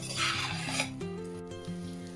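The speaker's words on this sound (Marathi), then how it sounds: "हा तांदूळ असा परतून घेतला" Rice sautéed with a spoon in a pan for a Marathi soya rice dish: soft scraping and stirring rasps, brightest early, then fading under a steady background hum, with no talking.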